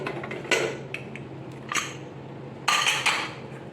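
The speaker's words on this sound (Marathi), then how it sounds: "आता कुकर आमी ओपन करून पळोवया" Metal clanks and scrapes in a few sharp bursts up close, the lid being handled and lifted off a pressure cooker of cooked chicken, with no voices.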